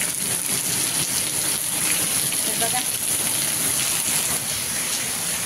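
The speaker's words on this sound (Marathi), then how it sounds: "तर बघा चाललाय आपला जोरदार पाऊस मस्त असा." Dense, steady hiss of heavy rain pouring nonstop, close and loud, with water splashing on surfaces throughout.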